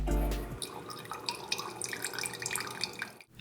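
Fuel cleaner drains from an old motorcycle's fuel tank in a steady, close trickle with scattered drips and splashes, heard alone for a few seconds before stopping abruptly.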